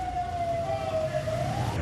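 A police siren from a motorcade carrying Jorge Glas to the airport in Guayaquil, Ecuador, a single steady wail that slowly dips then rises, loud over road rumble.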